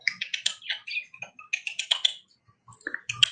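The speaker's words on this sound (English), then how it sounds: "I can calm her down by speaking softly and clicking at her" Quick tongue clicks made close to the mic to soothe a pet bird named Cinnamon come in rapid runs, then pause before a short final cluster, crisp and dry.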